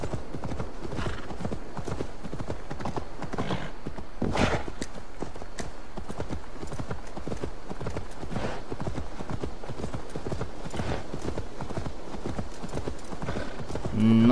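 Horse hooves clop rapidly and steadily in Assassin's Creed Valhalla as a mount gallops along, a continuous rhythmic beat with ambient game sound and occasional talking over it.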